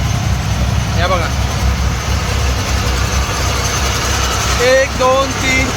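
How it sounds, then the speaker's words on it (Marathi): Large pumps drain floodwater from a village, a steady low engine drone close by, with a person talking over it throughout. "तुम्हाला दाखवतो किती पंप लावलेत आणि किती मोठे पंप लावलेत आणि पाणी किती जाते तो"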